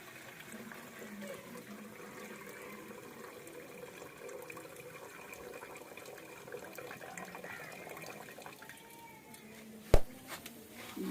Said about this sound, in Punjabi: ਚਾਵਲਾਂ ਦੀ ਕੱਢ ਲਈਏ ਪਾਣੀ।